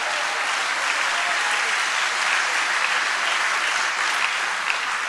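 Steady audience applause filling a church-style gathering, a dense even wash of many hands clapping at constant loudness throughout.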